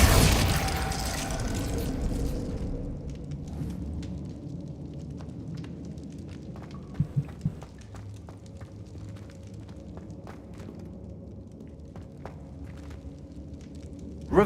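A Confringo fire spell blasts off in Hogwarts Legacy, a loud broadband burst that rumbles for a couple of seconds, then fades into low crackling and scattered small impacts.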